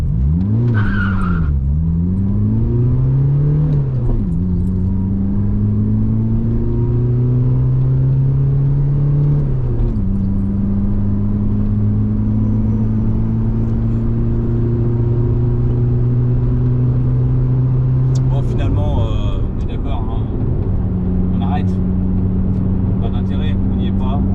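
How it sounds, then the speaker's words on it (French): Citroën Saxo revs hard and accelerates from standstill through several gears, engine pitch climbing and dropping at each shift with a brief tire screech at launch, loud and steady from inside the car. "on se tape un petit 0 à 100 avec cette voiture"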